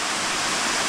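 Rushing flood water pours along steadily after heavy rain at Paris Mountain State Park, a dense, continuous roar like a stream or small waterfall, close and unbroken throughout.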